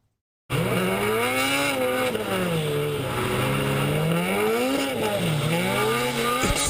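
A high-revving car engine screams loudly, sweeping up and down in pitch and bouncing off the rev limiter, close and alone.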